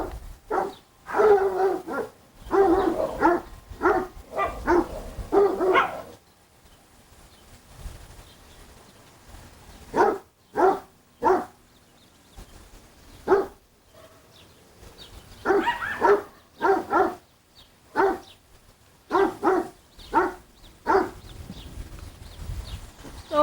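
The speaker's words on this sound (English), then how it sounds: "There's a dog on the other side of the fence there." A dog barks from the other side of a backyard fence in short, loud bursts, mostly single or paired woofs spaced by brief pauses, with a longer quiet gap midway.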